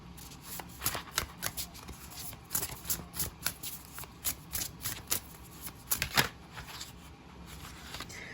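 Tarot cards are shuffled by hand in a quick, irregular run of crisp riffling and slapping bursts that last several seconds, close and fairly clear, with no talking.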